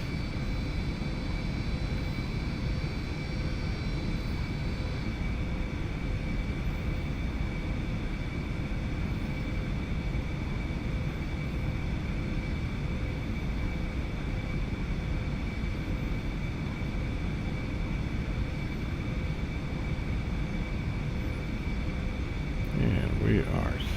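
An Eclipse 550 business jet taxis to the end of the runway in a flight simulator game, its engines a steady, loud whine and rumble that holds level throughout, with a faint knock near the end.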